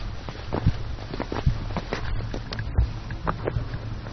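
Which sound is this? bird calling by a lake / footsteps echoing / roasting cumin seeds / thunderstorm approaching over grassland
footsteps echoing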